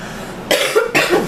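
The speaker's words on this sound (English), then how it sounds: "I'm so sorry about the cough." Two sharp, harsh coughs in quick succession, loud and close, with no talking around them.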